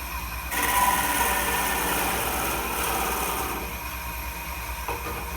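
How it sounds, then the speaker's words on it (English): A wood lathe spinning at about 1200 RPM hums steadily while a parting tool and skew chisel cut a goblet free, adding a rising scraping hiss that fades after a few seconds, close and continuous. "I'm just going to use the parting tool followed up with the skew chisel to part this goblet off"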